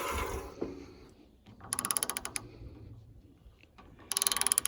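A bandsaw blade's tension being tightened, with two bursts of rapid ratcheting clicks separated by quieter mechanical handling.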